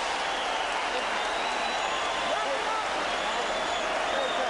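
Boxing crowd standing and roaring at Caesars Palace, a dense, steady wash of cheering and clapping that fills the whole clip at a constant loud level.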